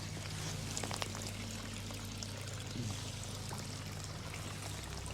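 Water from a garden waterfall trickles and pours steadily over stones, a continuous close, low-level wash with faint splashes and no voices.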